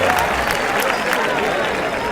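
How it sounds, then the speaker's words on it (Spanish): Loud, dense clapping from a group of students in a class, a continuous wash of applause with a voice faintly mixed in. "aplausos."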